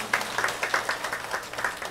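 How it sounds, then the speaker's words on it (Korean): Church congregation applauding together during a Korean worship service, a steady patter of many hands clapping at moderate distance, with no talk over it. "하나님께 영광의 박수 올려드리겠습니다."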